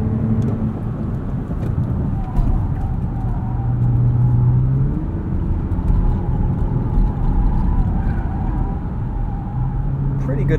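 A 2020 Toyota Avalon TRD drives through a corner with a steady engine hum and road rumble from inside the cabin, a low drone that rises slightly midway, with a person talking over it.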